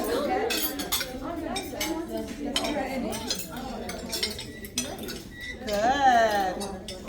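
A metal fork scrapes and scoops rice across a dinner plate, practiced in continental dining style, with light clinks and taps of cutlery on dish repeating through the clip while a person talks over it.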